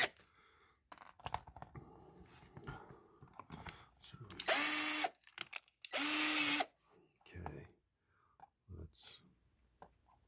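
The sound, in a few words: drill drilling out rivets, chuck tightened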